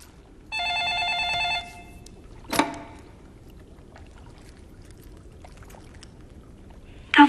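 A telephone rings indoors with one short electronic trill that lasts about a second. A single sharp clack follows, and then near silence.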